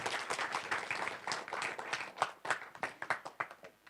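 Audience applause welcoming a film director onto the stage at a trailer launch event, lively clapping that thins into distinct individual claps toward the end, moderately distant.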